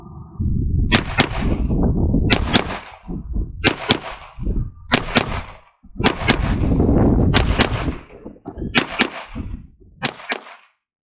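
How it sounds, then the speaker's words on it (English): Gunshots from a pistol with a red dot sight fired at USPSA targets, in quick pairs of two shots per target while transitioning back and forth, loud and close with brief gaps between pairs and no talking. "fire two shots at each target, transition back and forth"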